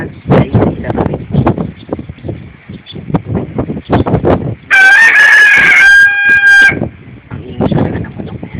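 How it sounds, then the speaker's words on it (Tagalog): A rooster crows loudly once, a long strained call, between stretches of Tagalog conversation; nearby talk continues before and after the crow. "Ang ingay talaga ng manok na yan."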